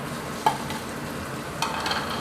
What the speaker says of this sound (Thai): ก็ใส่เนื้อหมูลงไปได้เลยครับ